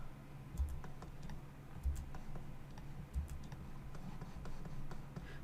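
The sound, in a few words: computer keyboard shortcut key presses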